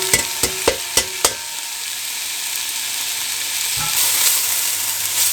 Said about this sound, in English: And then we add our rice to the pan.